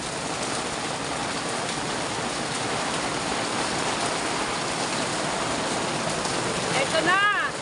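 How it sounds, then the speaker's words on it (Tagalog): Heavy rain from a typhoon lashes down in a steady, dense wash of noise with strong wind, continuous and loud, and a brief voice-like wavering sound at the very end. "Lakas ng ulan!"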